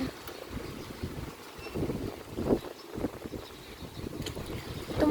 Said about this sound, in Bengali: প্রচুর বাতাস হচ্ছে